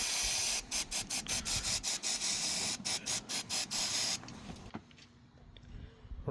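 Aerosol brake cleaner sprayed onto a diesel injector part from a Toyota Hilux, heard as a rapid series of short hissing bursts close by, then a longer spray that stops abruptly into quiet.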